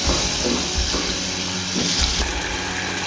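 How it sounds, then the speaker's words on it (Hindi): A spice masala frying in oil in a pan for an egg khagina makes a dense, continuous sizzle up close, with soft scraping stirs rising and falling throughout. "अब ये मसाला बहुत अच्छी तरीके से भुन चुका है, सारा ऑयल ऊपर आ गया है।"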